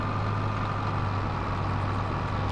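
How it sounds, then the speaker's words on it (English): Steady tractor engine idling in Farming Simulator 22, a constant low drone with a fixed hum, continuous and even throughout with no talk over it. "I think I've left that tractor"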